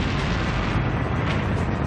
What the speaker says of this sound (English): The force of the explosion stops the battle in its tracks.